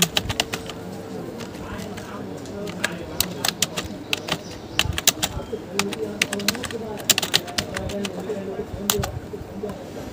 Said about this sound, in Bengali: আবার ট্যাব বাটন প্রেস করলাম, লিখলাম মাতার নাম।